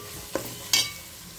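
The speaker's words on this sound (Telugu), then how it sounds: "ఇది బాగా వేగాక నెక్స్ట్ టమాటా వేసుకొని కలుపుకోవాలండి" Tomatoes go into a pan of frying onions for biryani: two brief scraping stirs, the second a bright sizzling rasp, then a low simmering hiss. No voices.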